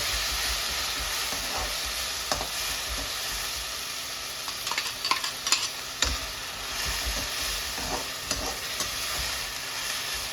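Onions and tomato puree frying in oil for a chicken masala, a dense, continuous sizzle with clattering spatula stirs scattered throughout, close and fairly loud, with no talk.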